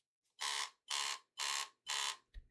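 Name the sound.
power bank battery indicator vibration beeps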